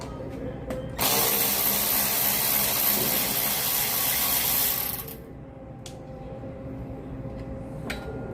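A power tool, likely a drill or ratcheting driver, runs steadily for about four seconds while removing 7mm screws from a lawn mower, followed by quieter clicks and handling noises.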